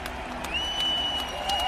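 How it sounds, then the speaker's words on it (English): Applause from an awards-show audience for the storyline-of-the-year winners, a brief burst of steady clapping with some crowd noise underneath. "Give them a round of applause."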